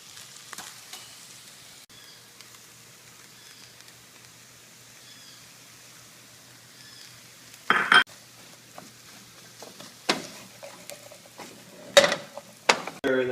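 Tomatoes, onions, broccoli and cauliflower sizzling in a pan for a breakfast burrito: a low, steady frying hiss broken by several sharp louder clatters of stirring and pan contact toward the end, no talk.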